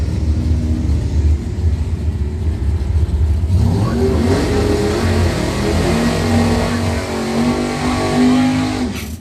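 A 1972 Monte Carlo and a 1963 Chevy II, both doorslammer drag cars, idle loudly at the line, then launch into a roaring, rising rev of heavy V8 engines.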